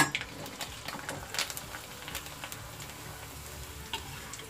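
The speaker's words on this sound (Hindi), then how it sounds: "ये हमारा तेल गरम हो गया है और इसमें हम डालेंगे आलू के चिप्स।" Potato chips fry in hot oil in a wok, a faint, even sizzle with scattered small pops and crackles, no voices.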